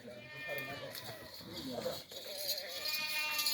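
Goats bleat in wavering cries across the clip as kids suckle, with people talking over them and a hiss of outdoor background noise.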